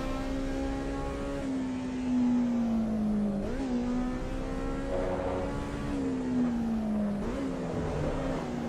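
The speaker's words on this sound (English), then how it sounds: "Listen to the Honda Rev." Honda race car engine in Assetto Corsa EVO revving in a steady high drone, pitch sagging then snapping up at each gear change, held loud and close throughout.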